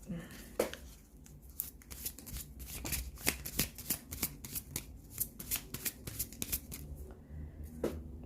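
Oracle cards being shuffled by hand, a quick run of crisp riffling flicks repeated steadily and close, with a faint voice in the background at times.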